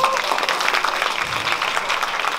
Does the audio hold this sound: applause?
yes